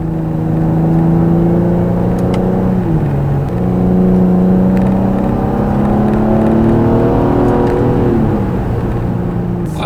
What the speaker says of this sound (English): now I'm going to do a quick acceleration. I'm going to put it in Sport Plus mode